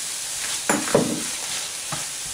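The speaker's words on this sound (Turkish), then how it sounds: "Biberleri de ilave edelim. Yaklaşık 3-4 dakika kavuruyoruz." Minced meat and peppers fry in butter and oil, a steady close sizzle broken by a few sharp spatula stirs and scrapes.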